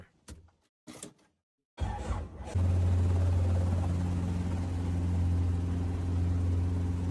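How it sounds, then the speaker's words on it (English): A steady, loud low rotor-like drone of a private helicopter in a video game starts after a couple of door-like knocks and keeps going without a break, close and constant. "Flying a private helicopter."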